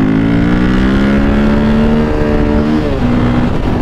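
A motorcycle engine roars loudly and continuously as the bike accelerates up a hill, its pitch holding high and steady throughout with no talking.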